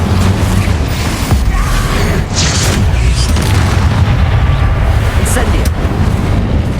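Confringo explosive spell cast in Hogwarts Legacy: a loud, dense stream of booming blasts and crackling impacts that continues throughout without a break, with brighter bursts flaring up over the heavy low rumble.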